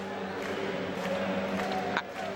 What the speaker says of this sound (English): And a huge crowd here that are really on the edge.